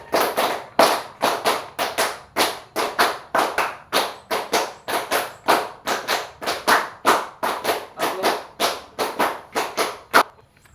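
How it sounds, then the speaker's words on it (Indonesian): A classroom of students claps in a fast repeated rhythm, sharp group claps in quick patterned bursts repeating steadily for about ten seconds, loud and close with no talking. "Tepuk 5 berkali-kali habis itu."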